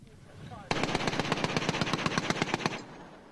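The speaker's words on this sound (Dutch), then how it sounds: "Er wordt over en weer af en toe geschoten." Gunfire exchanged in combat during a special forces operation, a sudden sustained burst of rapid automatic shots lasting about two seconds, loud and close, after a quiet start with faint background noise.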